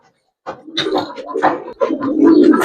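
Giribaz pigeons offered for sale coo in a few short bursts close by, with light handling noises and no talk over them.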